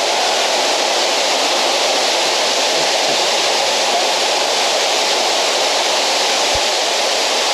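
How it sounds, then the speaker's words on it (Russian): Water pours and sprays inside a cave-like grotto in a Japanese garden at Mriya in Crimea, a loud, constant hissing rush that fills the space without pause. "Ой-ой, здесь воды много."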